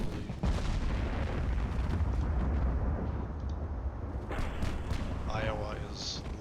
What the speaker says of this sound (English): Iowa is loading and firing very effectively.